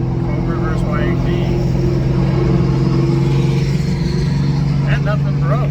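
A turbo Yamaha YXZ and a Cobra race with their engines droning steadily, a low tonal hum running the whole time, and people talk over it.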